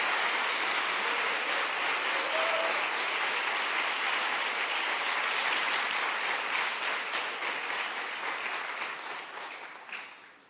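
Sustained applause from a church congregation fills the room, steady and dense for about eight seconds before tapering off toward the end, with no voices over it.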